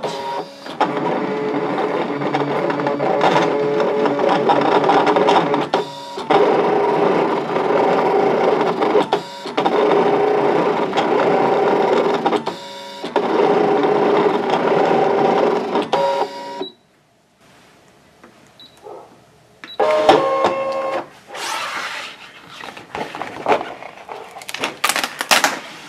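Brother ScanNCut cutting machine runs while cutting paper on its mat, a loud steady motorized whir broken by short pauses and carriage shifts, then a quieter stretch with intermittent clicks and whirs near the end.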